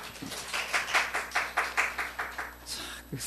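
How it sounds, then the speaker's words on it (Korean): A church congregation at a Korean morning service claps in unison, a steady rhythmic series of about a dozen hand claps at moderate volume, slowing and fading toward the end with a brief voice. "우리 하나님께 박수 올려드려요."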